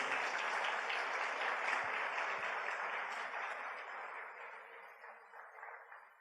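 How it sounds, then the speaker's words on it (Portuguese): A church congregation applauding at a service, a dense, sustained wash of clapping that holds steady and then slowly fades over several seconds. "Você pode aplaudir ao Senhor por isso"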